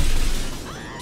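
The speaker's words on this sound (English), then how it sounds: "Just one brutal energy pulse after another." A single loud, booming energy blast from the UP-N Atomizer ray gun in GTA Online, a heavy burst that fades out over about a second.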